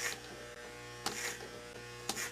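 Electric trimmer working through a beard, a faint steady buzz that cuts out and restarts in short passes, with brief brighter rasping bursts as it meets the hair.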